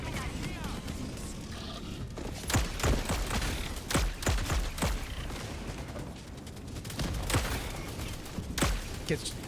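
Repeated heavy cannon blasts from a tank in Helldivers 2, firing from a corner of the map, booming in irregular bursts over a busy mix of game effects and a talking voice.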